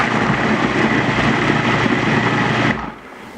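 A food processor runs steadily and loudly with a dense whirring motor drone, then cuts off abruptly near the end, leaving quiet.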